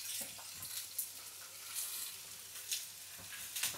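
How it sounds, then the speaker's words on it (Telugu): Capsicum, carrot and cabbage fry in a pan for pepper veg fried rice, a soft steady sizzle with occasional brighter bursts of hiss and faint stirring, quiet and close with no voices. "అందుకని ముందుగా క్యాప్సికమ్, క్యారెట్ వేసేద్దాం. వేగుతాయి, ఇవన్నీ కలిపే వేగుతాయి."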